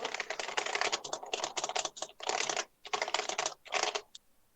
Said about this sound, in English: Why is he typing like?